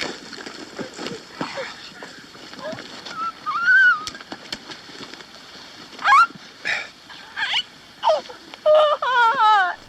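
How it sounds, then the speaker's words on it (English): Birdsong from a scene in Ingmar Bergman's film The Virgin Spring: scattered chirps and short warbling phrases, sparse at first and denser toward the end, over a quiet outdoor ambience. "In some moments you hear things like the birds"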